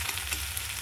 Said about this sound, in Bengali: পেঁয়াজটা ভাজাও দিচ্ছি, কী করা যায়।